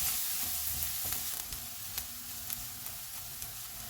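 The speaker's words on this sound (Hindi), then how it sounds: "एक छोटा सा प्याज डालेंगे। चूल्हे को मीडियम टू हाई रखेंगे और इसको 2 मिनट तक फ्राई करेंगे।" Onion and cumin frying in hot oil over a medium-high flame, a constant crackling sizzle with small pops and light scrapes throughout, close and unaccompanied by talk.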